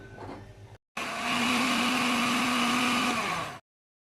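A blender grinds spinach with water, steadily with a loud, even motor whine for about three seconds after a brief pause, then cuts off abruptly.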